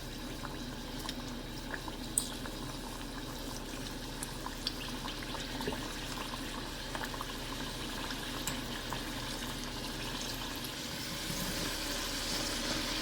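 French fries frying in a pot of hot oil, a steady broadband bubbling hiss that holds evenly throughout with faint crackles and pops, close and unbroken, no voices over it.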